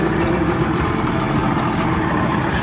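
A car engine with a mechanical fault idles steadily on a Bahamas road trip, a dense low rumble running continuously and fairly close with no pauses or talk.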